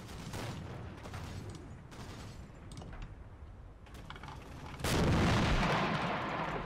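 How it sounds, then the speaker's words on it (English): Distant mortar or Greyhound armoured car gunfire in a war video game: muffled booms and rumbling thuds with a louder blast toward the end. "whether that's mortar fire or greyhound fire"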